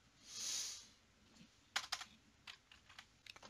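Fingers typing a short line of text on a computer keyboard, a quick cluster of close, crisp key clicks followed by a few scattered taps after a brief soft whoosh.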